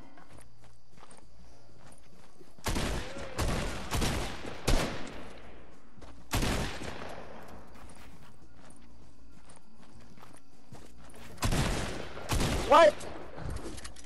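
Gunfire in the video game Fortnite comes in several loud bursts of rapid shots spread across the clip, with quiet stretches between them and a brief spoken word.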